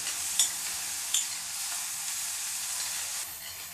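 Ground spice mixture stirred into fried onions in a pan, a soft steady scraping sizzle with two brief clinks of the spoon early on, close and alone.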